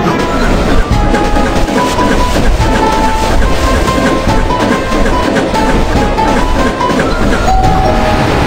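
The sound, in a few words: train approaching desert slope in a video game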